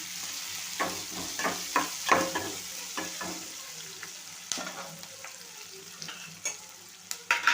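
Onions, garlic cloves and salt fry in oil in a pan while being stirred. A soft sizzle runs under repeated scraping strokes, with sharper ticks and clacks toward the end.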